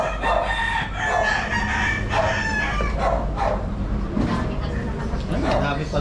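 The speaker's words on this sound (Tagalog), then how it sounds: "Ay, dami pala mga manok." Chickens clucking and a rooster crowing over a steady background hum, with a person talking nearby.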